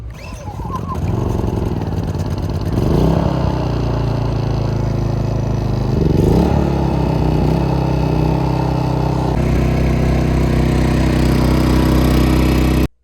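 A Maxpeedingrods MXR3500 inverter generator's small petrol engine starting and running, a loud steady mid-pitched drone with a few brief surges in speed as it settles, no talking.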